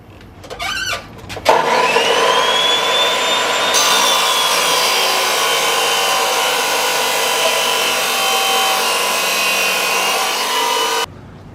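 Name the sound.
cutting a metal part to length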